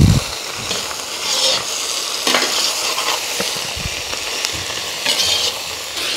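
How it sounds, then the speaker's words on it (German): Carrots and onions for plov fry in a pan with a constant loud sizzle, while a utensil stirs and scrapes through them in irregular bursts, close up and without speech. "Freunde, die Karotten wurden jetzt ebenfalls angeschwitzt"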